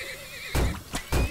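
Horses neigh in the video game Turmoil, two loud close whinnies about half a second apart, each rising and falling in pitch over a steady game background tone.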